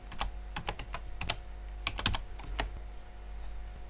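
Typing on a computer keyboard, with close, sharp key clicks in irregular clusters over a low steady hum.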